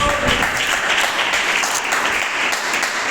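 Loud, dense applause from a large congregation at a church service, sustained throughout without pause.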